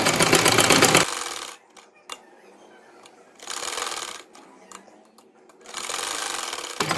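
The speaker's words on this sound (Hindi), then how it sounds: "ये इसको इस तरह से जो है वो सिलाई लगाएंगे" A sewing machine stitches salwar fabric in three loud, rapid runs of clattering needle strokes, separated by quieter pauses with small clicks and handling knocks.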